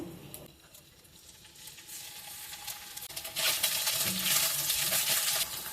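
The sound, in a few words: paneer pieces frying in hot oil in a kadai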